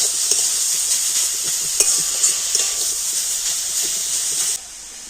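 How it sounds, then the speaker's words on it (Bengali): Grated carrot fried in ghee in a wok over low heat gives a steady, bright hiss of sizzling, with occasional spatula stirs and scrapes close by, no voices. "আর এই ঘিয়ের সাথে গাজরটা একটু ভেজে নেব।"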